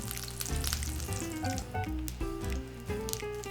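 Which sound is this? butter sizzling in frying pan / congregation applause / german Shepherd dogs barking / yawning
butter sizzling in frying pan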